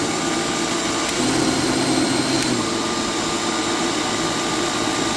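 Ryobi 40V brushless cordless snow shovel running at its first speed, a steady droning motor whine with a faint tonal hum, continuous and close with no talking.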